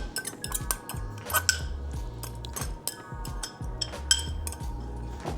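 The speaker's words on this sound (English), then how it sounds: "we're simply gonna add this whole mixture to the bowl." Shrimp marinade mixture goes into a bowl, heard as a run of close metallic clinks and scrapes of a utensil against the dish, with brief wet squishy touches between them.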